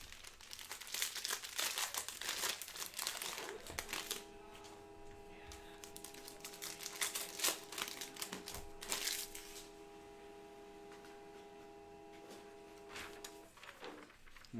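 A 2020-21 Panini Prizm cello pack of trading cards is ripped open, its plastic wrapper crinkling and tearing close up for several seconds before a steady mechanical hum takes over.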